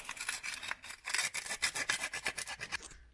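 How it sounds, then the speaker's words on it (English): A metal part on a turbo E36 project car is sanded by hand, quick rhythmic rasping strokes, close and fairly quiet, with no talking. "So let's get to sanding."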